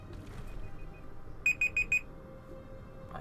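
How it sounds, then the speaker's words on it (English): A video-game alarm clock goes off inside a water temple, four quick bright electronic beeps in a tight even burst, preceded by fainter beeps under a low murmuring game background. "My alarm went off."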